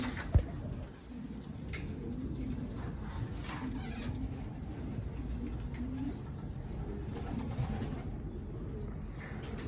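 Pigeons coo softly amid a steady, noisy background hum, their calls blending into a constant low murmur.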